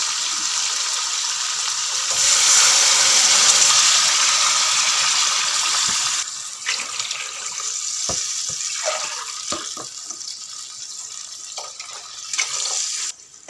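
Water pours steadily from a glass into a pot of beef yakhni for degi yakhni pulao, a loud continuous splash that tapers into scattered drips and the clinks of utensils.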